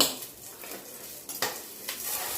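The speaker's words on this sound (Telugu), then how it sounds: "అట్లనే శనగపప్పు మినపగుండ్లు కూడా వేయించాలి" Chana dal and urad dal fry in oil for raw mango pulihora, a soft sizzle under a few close scrapes of a spoon stirring the pan.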